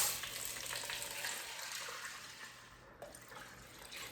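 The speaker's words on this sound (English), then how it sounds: "then we are gonna add in the water" Water poured into a cooking pot of white beans, a steady, close, rushing splash running throughout with slight shifts in texture.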